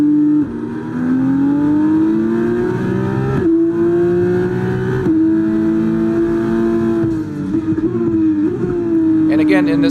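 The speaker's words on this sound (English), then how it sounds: "in this F2, you can hear the exhaust notes a little bit drony" An F2 race car in the F1 24 video game, racing at Las Vegas, roars loudly with a steady droning exhaust note that rises and shifts through gear changes, continuous and up close.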